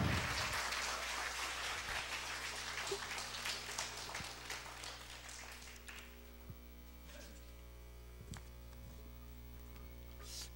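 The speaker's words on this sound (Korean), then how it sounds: "우리 인디안 마을에서는 이런 박수 못 받아봤다는 큰 박수로" A church congregation claps loudly, then the applause thins and fades over several seconds into a low electrical hum with a few scattered claps.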